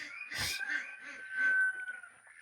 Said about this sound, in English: our ducks and chickens. You will hear them making quite a bit of noise